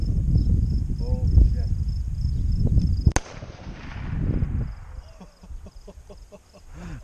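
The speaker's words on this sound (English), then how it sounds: "The first round ever with the 30-30. I'm really scared to shoot this." A single sharp 30-30 rifle shot cracks out midway, loud and close, after muffled wind-buffeted handling and voices; a faint ringing tail follows.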